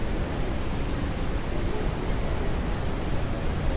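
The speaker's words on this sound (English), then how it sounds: "Rain is too loud." Steady, dense hiss of heavy rain, constant and loud throughout with no breaks or voices.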